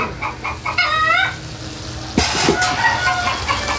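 Chickens clucking nearby, a mix of short repeated clucks and a drawn-out squawking call, with a sudden clatter partway through.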